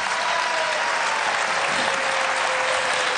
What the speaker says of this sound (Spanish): Un aplauso al ginecólogo desde aquí.